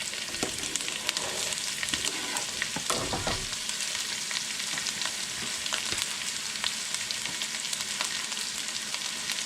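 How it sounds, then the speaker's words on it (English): Garlic, ginger and onions frying together in a pan give a loud, dense, continuous sizzle and crackle, close up, with occasional stirring clatter and no speech. "we'll go ahead and put all of our garlic and ginger in"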